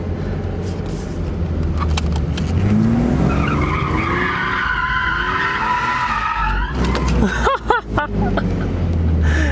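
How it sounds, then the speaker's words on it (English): A 1995 drift project car skids, its tires squealing loudly in a long sustained screech with a rising pitch and engine roar, then sharp chirps and tire scrubs as it slows. "Now I kind of want to see if this thing will do another skid."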